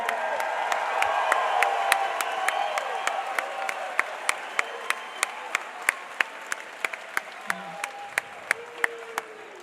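A crowd applauds steadily, with sharp individual claps ringing out clearly over the sustained clapping as it gradually thins toward the end.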